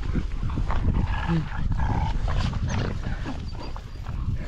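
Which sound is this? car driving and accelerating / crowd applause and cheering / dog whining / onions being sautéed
dog whining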